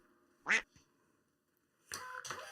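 A duck quack sound effect plays as one sharp, loud quack. After a short pause a second burst of quacking follows in quick succession, with no one talking.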